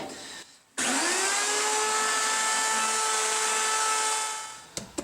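A drill bores 3/8 inch holes in metal for a brake build: a sharp start, then a steady high whine held for about four seconds before it winds down, with a brief rattle at the end.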